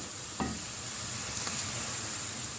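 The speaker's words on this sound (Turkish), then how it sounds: "Havuç güzel rengini bırakıncaya kadar kavuruyorum." Carrots sautéing with pepper paste in a pan, a steady soft sizzle with a couple of brief stirring scrapes near the start and middle, close and alone.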